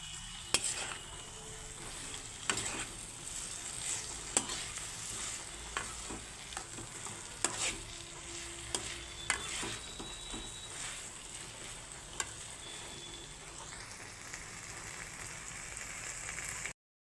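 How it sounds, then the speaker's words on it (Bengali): Pieces of pointed gourd (potol) are stir-fried with prawns and spices in a pan: a continuous close sizzle with repeated scraping and clinking stirring strokes, and no talking. "পটলগুলো দিয়ে একটু কষিয়ে নেব যাতে মশলাগুলো ঢুকে যায় পটলের ভেতরে"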